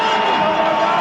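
A football stadium crowd roars loudly on a third-and-long play, a dense, continuous wall of cheering voices heard up close for a brief moment.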